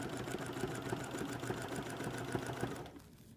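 Sewing machine stitching down a quilt with mountain-patterned fabric, running in a steady rapid chatter of needle strokes for about three seconds before stopping, close and moderately loud with no talking.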